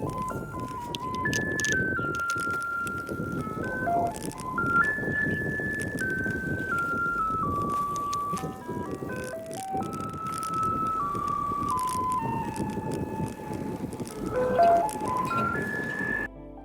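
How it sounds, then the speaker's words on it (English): A garbage truck in Taiwan plays a looping electronic melody continuously, its tinkling notes stepping up and down like an ice cream van jingle, loud and close over a rumbling engine. "Behind me is the sound of a garbage truck. It sounds like an ice cream truck, but it's a garbage truck."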